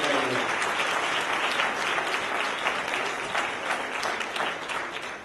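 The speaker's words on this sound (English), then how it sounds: "Give them a big round of applause right now." An audience claps for a group of young men at an evening event, dense sustained applause filling the room at moderate level, steady across the whole stretch and slowly fading at the end.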